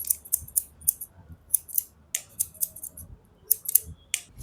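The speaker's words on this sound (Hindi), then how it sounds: "उसको कैंची कंघे से छोटे कर देंगे" Barber's scissors snip repeatedly while a comb guides the hair during a side-part taper fade, making crisp, close, irregular metallic cuts in quick clusters.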